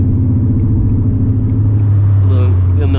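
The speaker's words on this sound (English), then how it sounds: "it sounds good paired up with the stainless power long tube headers, catless ones" A 2021 Mustang GT fitted with catless stainless long tube headers rumbles loudly and steadily from inside the car while driving, its deep exhaust drone holding throughout.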